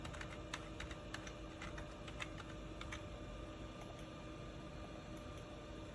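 Keys tapped steadily and lightly on a keyboard while a Wi-Fi password is entered for a Lucky Miner LV05/LV06 unit, irregular clicks over a constant background hum, no talking.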